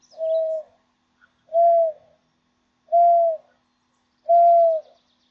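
Owl hoot imitated by blowing into cupped hands: four hollow, round, evenly spaced hoots, each about half a second long, close and loud with silence between them.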